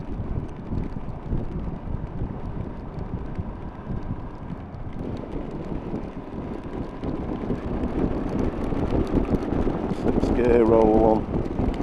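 Strong wind buffets the microphone during a Suzuki V-Strom 800 DE adventure motorcycle ride, a constant loud broadband roar that swells toward the end.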